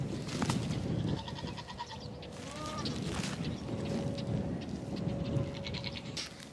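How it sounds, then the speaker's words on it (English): Goats bleat and scuffle while butting heads in a paddock, with bleats rising over steady outdoor noise and thumping movement throughout. "A goat battle."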